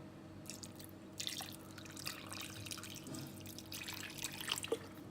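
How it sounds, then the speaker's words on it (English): Water is poured into a pot of cooking goat meat, giving a steady splashing, trickling pour with dripping accents that runs for several seconds at moderate closeness, with no talking. "So now add water accordingly."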